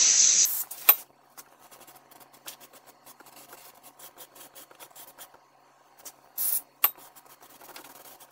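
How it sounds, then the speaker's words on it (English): Brake cleaner sprayed onto the 6.0 engine of a 2005 Chevy 2500 pickup, heard as a short hissing burst at the start, another near the end, and light scattered handling noises between. "Let's just take some brake cleaner."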